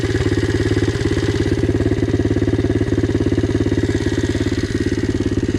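A Loncin 110/125 motorcycle engine runs on a test before a turbo is fitted, a loud, steady, rapidly pulsing idle that chugs evenly throughout with no voices.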